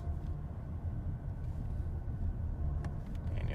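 BMW i7 electric car slowing down on its own while driving, a steady low rumble of tyres and road noise heard from inside the cabin, fairly even with slight swells.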